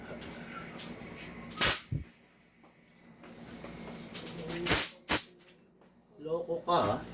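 Gas hissing from a leaking magazine of an airsoft pistol such as a Sig Sauer or Glock 18, heard as short sharp bursts of hiss with quieter stretches between, and someone talking toward the end.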